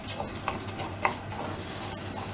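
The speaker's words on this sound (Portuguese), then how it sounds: "Vamos mexer aqui." Seasoned rice with a little salt is stirred in a pot, quick close scrapes and light utensil taps over a faint steady sizzle.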